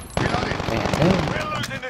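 Gunfire in Call of Duty: Modern Warfare, a rapid burst of automatic shots crackling in a dense, close volley for about two seconds, with a voice talking over it.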